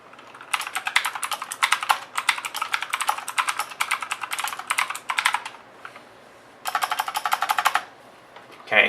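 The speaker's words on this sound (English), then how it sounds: "let's just do a typing test to compare." Rapid, clicky keystrokes on a Red Dragon Vizsnu mechanical keyboard with blue switches, typed in a fast continuous run, a short pause, then another burst, loud and close.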